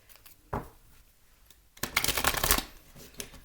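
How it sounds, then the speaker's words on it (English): A deck of tarot cards being shuffled, a short riffle near the start and then a longer, louder burst of rapid card flutter up close, with no talking. "Let's go ahead and shuffle these and see what the oracle,"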